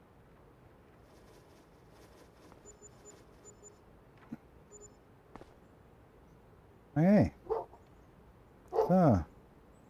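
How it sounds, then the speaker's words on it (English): Dogs bark in two loud bursts near the end, each a cluster of sharp barks, after a quiet stretch with small knocks and a brief spoken word. "sorry for the dogs barking and everything"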